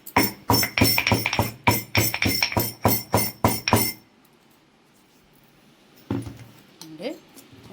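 Masala tea spices are pounded with a pestle in a close, hard, regular run of about a dozen sharp strikes, then quiet apart from a short voice near the end.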